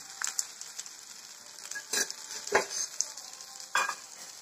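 Spinach thalipeeth fries in plenty of oil on a pan, giving a faint, soft sizzle broken by a few sharp scrapes and taps from a spatula.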